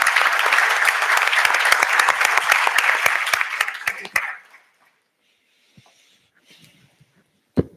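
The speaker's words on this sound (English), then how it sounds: "Please kindly another round of applause for the panel." Audience applause for the panel at a ministerial panel discussion in Africa, a full dense round of clapping lasting about four seconds before cutting off sharply, followed by near silence with a few faint knocks and one loud thump.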